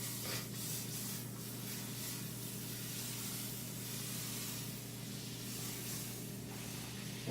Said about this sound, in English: Melt me a little bit of butter.